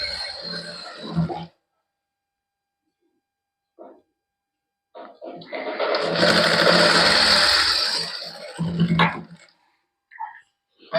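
Sewing machine stitching fine seams along the edges of a dupatta, running in a loud close whir for a couple of seconds, with short starts and stops in between and someone speaking.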